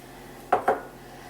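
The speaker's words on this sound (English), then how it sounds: "Next, I'm gonna put all of my delicious dry ingredients into the blender." Dry smoothie ingredients are tipped into a blender, two quick sharp knocks against the jar in close succession over a quiet room hum.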